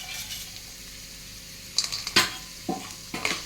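Cashews and raisins frying in a pot while being stirred, a low sizzle under a few sharp scrapes and clinks of a spoon against the metal, near and fairly quiet.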